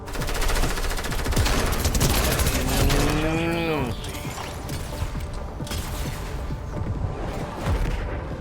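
Gunfire in Fortnite crackles in rapid bursts of shots, with a long droning, swooping tone cutting through midway and scattered quieter pops afterward.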